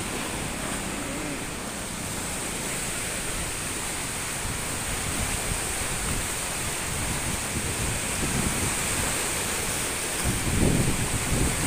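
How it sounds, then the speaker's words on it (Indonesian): Large waves churning on Lake Ranau at the Banding Agung dam, a steady loud wash of surf with wind noise that swells slightly toward the end, with no voices over it. "Ombaknya lagi besar."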